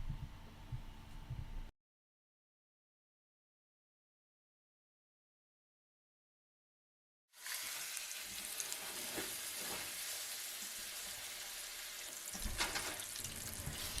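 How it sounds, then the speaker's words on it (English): Meat frying over medium-low heat in a pan with oil and Imperial butter gives off a steady, moderate sizzle. It starts after a long silent gap, with a brief bit of sound before that. "after you put this in the pan and cook it for 5 minutes on both sides"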